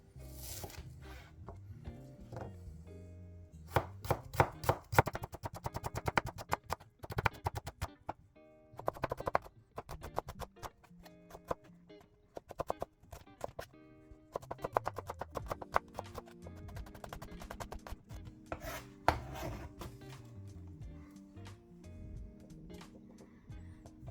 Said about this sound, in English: Now let's thinly slice our shallots.